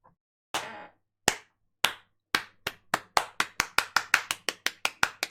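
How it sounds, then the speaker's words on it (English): A few isolated claps start slowly, then speed up into a brisk, sharp series of hand claps, close and clear with no voices. "Round of applause for that one."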